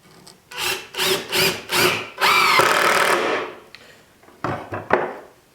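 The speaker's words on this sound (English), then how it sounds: "now we can lock it in place by putting the second screw in" A power drill drives a second screw into a wooden easel frame. Several short, close whirring bursts build to one longer, loud run as the screw seats, followed by a few brief taps and a final short buzz. No one speaks.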